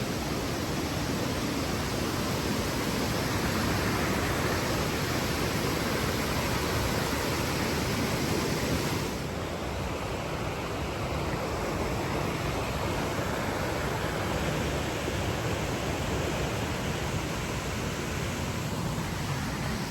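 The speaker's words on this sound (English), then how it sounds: "you got these cascading waterfalls coming up here" Cascading waterfalls beside a hiking trail give a steady, dense roar of rushing water that runs unbroken and loud throughout, with no voices over it.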